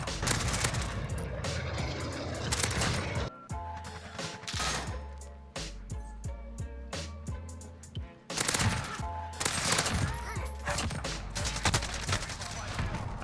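Rapid automatic gunfire blazes from a weapon in a Call of Duty-style multiplayer shooter, dense loud bursts at the start and again near the end, with a choppier stretch of shots and mechanical clatter between them while a player talks.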